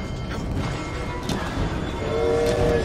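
A train rolls past in the video game Assassin's Creed Syndicate, with a steady rumbling wash of wheels and carriages and a sustained horn-like tone rising near the end, loud and close throughout.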